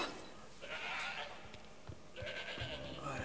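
A goat in the game Shadows of the Damned lets out two short bleats in quick succession, set against a low, murky in-game ambience.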